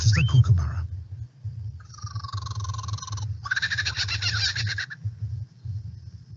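A lyrebird mimics a kookaburra's call, giving rising, chattering, laughing phrases in two bursts over a steady low rumble, moderately close and with no talking.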